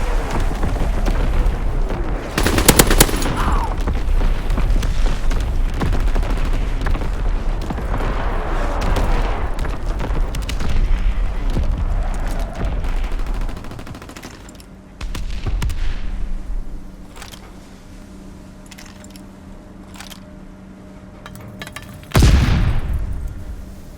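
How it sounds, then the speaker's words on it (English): Heavy naval guns of the USS Texas primary battery fire in Call of Duty WW2, with loud booming blasts and rumbling concussions layered over chaotic gunfire. Deep explosions echo at intervals, and one final big blast lands near the end. "Firing primary battery."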